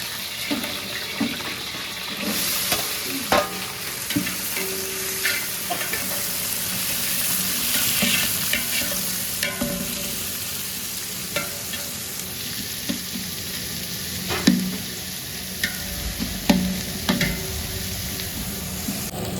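Onions, green chillies and whole spices such as cinnamon, cloves and bay leaf sizzle steadily in a pot for chicken biryani, with periodic scrapes and knocks of a stirring spoon and a faint running-water hiss in places.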